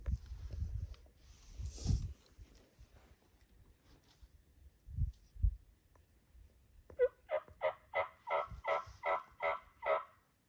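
Wild turkeys gobbling in Nebraska hunting country: a quick run of about eight rhythmic gobbles from fairly close by, following quieter rustling and low thumps.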